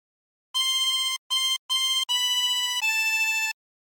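A 24-hole tremolo harmonica plays a short phrase of Waltzing Matilda: several sustained reedy notes with brief breaks between them, clear and close, with no other sound.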